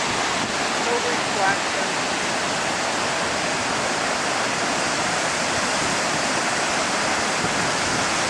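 Niagara Falls roars as a continuous broadband wash of rushing water, loud and steady throughout with no breaks.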